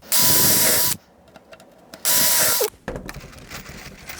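A power drill drives screws into a wooden model railroad baseboard in two loud, steady whirring bursts separated by a pause, followed by quieter clicks and handling noise close by.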